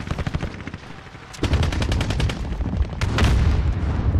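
Gunfire in Call of Duty: Warzone, rapid automatic bursts of shots in quick rhythmic succession, loud and close, with heavier booming fire joining midway and continuing to the end.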